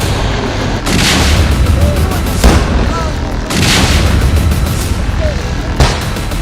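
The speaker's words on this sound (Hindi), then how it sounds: "एक और धमाका," Repeated loud blasts from a military operation against militants in Anantnag, with drone bombing and rocket launchers: about four deep booms a second or so apart, over a constant rumbling background with faint talk.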